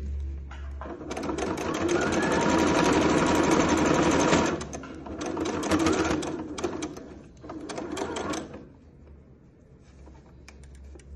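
Domestic sewing machine stitching a cotton tricoline fabric wallet, running in a long steady burst and then several shorter runs with brief pauses, close and clear with no talk over it.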